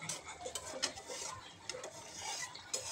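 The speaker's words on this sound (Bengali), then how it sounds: "ঢাকনা খুলে আবারও দেখে নিব, ভালোভাবে নেড়ে দিতে হবে।" Fish roe being stirred in a pan, close scraping and rasping of a utensil against the pan with light clinks, continuous and irregular, no voices.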